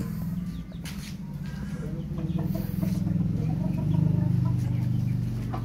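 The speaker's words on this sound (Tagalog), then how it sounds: "Ito manok ni Papa. Galing Bacolod yan." A rooster from Bacolod clucks in short repeated bursts, close by, over a steady low background hum on a farm.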